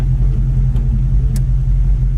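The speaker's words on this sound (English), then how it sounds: "This car sits here and idles great." A 1967 Ford Mustang convertible idles steadily close by, a loud, even low rumble that holds through the whole stretch with no revving and no voices.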